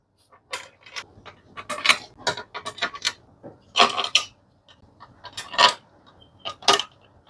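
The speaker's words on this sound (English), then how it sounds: "Pull our bolts in." Bolts being pulled in by hand on a Toyota Hilux 1KD-FTV diesel rocker cover, giving a close, irregular series of metallic clicks, rattles and scrapes from tools and fasteners in quick bursts, with no talk.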